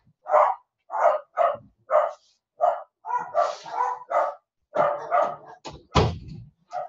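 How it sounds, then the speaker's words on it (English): Dogs bark repeatedly indoors, a run of sharp, loud, close barks in an uneven rhythm with short gaps, some overlapping, ending with a thump and a few yips. "I'm going to close this door since my dogs have decided to bark."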